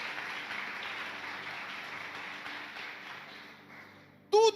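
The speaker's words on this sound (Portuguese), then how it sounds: "aplauda ao Senhor. Aplauda Ele em nome de Jesus." Church congregation applauding during a worship service, a steady wash of clapping that fills the room for several seconds and then thins, with a brief louder voice or tone bursting in at the very end.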